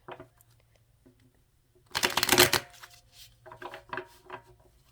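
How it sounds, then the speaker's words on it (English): A burst of rustling, riffling noise of large tarot cards being shuffled for about a second, followed by softer intermittent shuffling taps and slides, close and fairly quiet. "will shuffle a few times."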